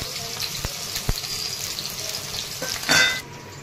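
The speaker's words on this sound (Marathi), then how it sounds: "जिरे टाकून घेत आहे, लसूण आणि कांदा टाकलेला आहे." Cumin, garlic and onion fry in a pan with a low, steady sizzle. Utensils tap and scrape against it, and water briefly splashes near the end.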